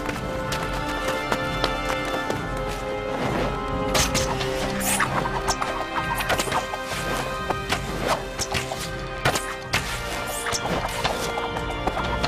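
Hooves of horses gallop in an animated biblical battle scene, a busy rapid clip-clop mixed with crashes and whacks under a constant music-like bed, with no clear talk.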